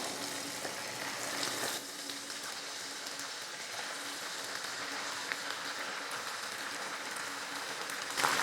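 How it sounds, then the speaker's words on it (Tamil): Chicken 65 pieces frying in hot oil, a continuous close crackling sizzle with fine popping spatters, steady in level with a small louder burst at the end. "நல்லா எண்ணெய் காஞ்சதுக்கப்புறம் அடுப்பை சிம்மில் வச்சுட்டு சில்லி போட்டுக்கோங்க."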